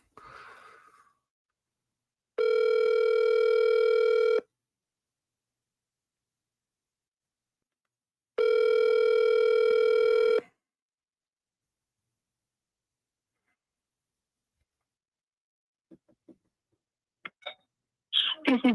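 Telephone ringback tone on an outgoing call, two long steady electronic rings separated by silence, followed by faint clicks and a voice toward the end.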